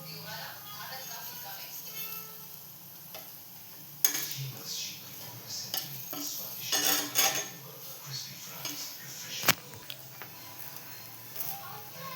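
Food being flipped in a ghee-greased pan on a gas stove, with sharp metallic clatters of a spatula against the pan around the middle of the clip over a steady low background and occasional soft talk.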